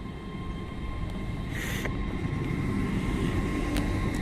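Great Western Railway Class 800 train 800 003 pulling out of Reading station toward London Paddington, a low steady engine and rail rumble building gradually with a faint tonal hum and brief clicks, no voices.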